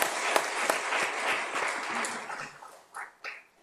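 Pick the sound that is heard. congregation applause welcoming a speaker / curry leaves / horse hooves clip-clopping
congregation applause welcoming a speaker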